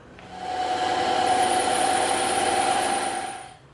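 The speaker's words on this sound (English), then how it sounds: "we're going to take this over to the bandsaw and the scroll saw" Bandsaw slicing through EVA foam, a steady whining buzz that swells in, holds evenly for a few seconds, then fades as the cut ends, heard alone without talk.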